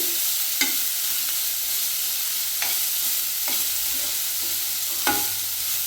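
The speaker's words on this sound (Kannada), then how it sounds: "ಆಮೇಲೆ ಇದನ್ನು ಸ್ವಲ್ಪ ಎಣ್ಣೆಯಲ್ಲಿ ಫ್ರೈ ಮಾಡೋಣ. ಚೆನ್ನಾಗಿ ಫ್ರೈ ಆಗ್ತಿದೆ." Beetroot frying in a little oil hisses steadily up close, broken every second or so by sharp scraping clicks as a spatula stirs it around the pan.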